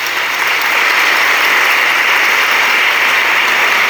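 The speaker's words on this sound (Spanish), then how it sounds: "Démosle un aplauso a la Virgen del Valle" A church congregation at Sunday Mass applauds the Virgen del Valle, a steady, dense wash of clapping that fills the whole stretch without pause, loud and close, with no voices standing out.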